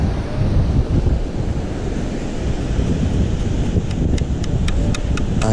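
Strong wind blowing on a beach during cold rain, loud continuous buffeting roar across the microphone with surf rumbling beneath, and faint metallic ticks near the end; no one speaks.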